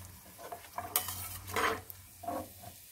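Semolina pua fry in oil or ghee, a soft sizzle broken by a few clinks and scrapes of a utensil in the pan, fairly quiet and close.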